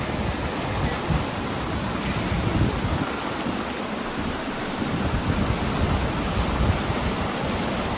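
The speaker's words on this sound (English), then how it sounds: "The river running right below us." Snowmelt river rushing below a snowy trail on Mount Whitney in a record snow year, a loud, dense, continuous roar of churning water filling the whole clip without pause.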